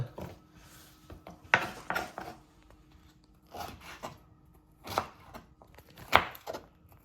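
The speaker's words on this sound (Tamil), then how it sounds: "புடலங்காயை இந்த சைஸுக்கு வெட்டுவோம்." A knife chops through snake gourd on a board in short clusters of crisp cuts, close and clear, with pauses between bursts and no talking.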